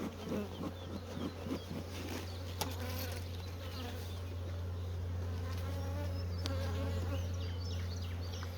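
Honey bees buzz steadily at a hive on a morning of heavy nectar flow, a dense continuous drone of many insects close by with no talk.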